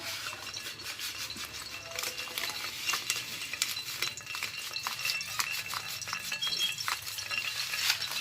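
White mustard seeds, cumin and fenugreek seeds sizzle in hot oil, crackling and popping in quick irregular bursts alongside light clinks of a spoon or pan.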